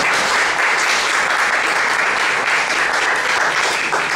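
Audience at a poetry criticism debate in a café breaks into sustained, even applause, a dense wash of clapping that holds steady and loud throughout.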